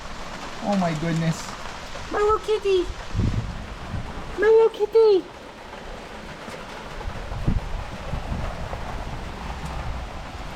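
Rain falls steadily outdoors with a soft hiss and scattered drops, under a voice speaking affectionately and a few bursts of movement nearby.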